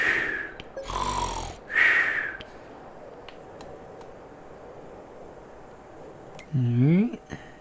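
A person imitates snoring with a few drawn-out, throaty snorts and rasping breaths, spaced apart and fairly close, over a quiet background during a Farming Simulator 22 session.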